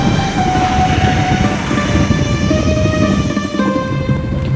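A train rolls across a rail bridge on the NJP to Rangpo line in hilly country beside the Teesta river, making a loud, steady rumble with sustained tonal whines running through it and no voices.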